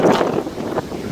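Strong wind roars during a rainstorm in Ardhapur town, a loud, continuous broadband rush that buffets the microphone without a break.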